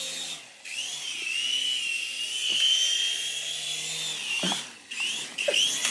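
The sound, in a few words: small remote-control toy helicopter flying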